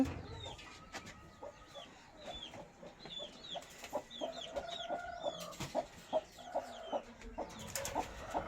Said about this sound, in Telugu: ఇదండి ఇది ఒక పెట్ట